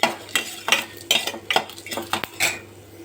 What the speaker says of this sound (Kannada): ಲವಂಗ 4 ನೋಡಿ, ಮತ್ತು ಮೆಣಸು 1/4 ಸ್ಪೂನು, ಜೀರಿಗೆ 1 ಸ್ಪೂನ್ ಹಾಕಿ ಚೆನ್ನಾಗಿ ಫ್ರೈ ಮಾಡ್ಕೊಬೇಕು